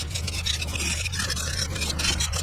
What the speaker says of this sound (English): These are snap-on scrapers.